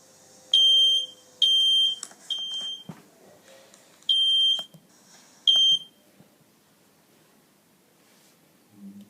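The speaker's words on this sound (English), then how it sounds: "fire alarm sounds ringing in our home" A home smoke alarm sounds in loud, shrill beeps, several short bursts in an irregular pattern over quiet room noise with faint rustling in between.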